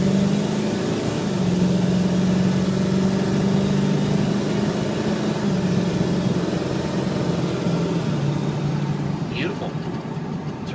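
A turbocharged truck with a big box body runs steadily nearby, its engine giving a continuous low drone with a faint tonal whine over the hum, while a person talks over it.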